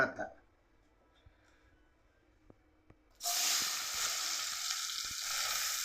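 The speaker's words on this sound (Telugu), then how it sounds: "ఇప్పుడు వేస్తా ఉల్లిపాయ" Onion drops into hot oil with a sudden loud sizzle that keeps frying steadily, after a few seconds of quiet kitchen sounds and small clicks.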